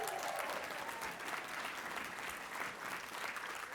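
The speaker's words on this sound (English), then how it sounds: "So give yourselves one more round of applause" A room of healthcare union members at a leadership conference applauds steadily, a dense, even roar of clapping that holds throughout, with a faint voice briefly audible near the start.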